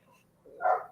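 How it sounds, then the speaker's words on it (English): One bark from a neighbor's dog comes through near the end, preceded by quieter yips, with a low background hum. "That's my neighbor's dog."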